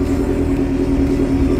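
An Estilo drag race car idles at the JAPNAS Drag Race 2022 final in Samarinda. Its engine and exhaust give a loud, steady, close rumbling drone with a buzzy hum and no pause.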